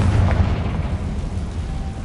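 A Confringo blasting spell explodes in Hogwarts Legacy, a loud, close, rumbling boom that rolls on for about two seconds with no talk over it.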